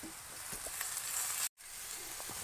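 Sliced onion salted in a pan gives a loud continuous sizzle up close for a couple of seconds, broken by a brief silent gap before the sizzle returns.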